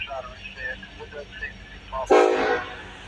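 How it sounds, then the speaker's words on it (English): An eastbound intermodal freight train passes during Ohio railfanning, a loud rush of rail noise swelling suddenly near the end after quieter background with faint voices. "Here we have another eastbound intermodal."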